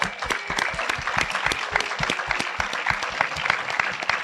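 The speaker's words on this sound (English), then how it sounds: "Can I get a little warm round of applause for those guys?" An audience at a film release celebration claps together in a warm round of applause, dense and steady with sharp individual claps standing out, no talk over it.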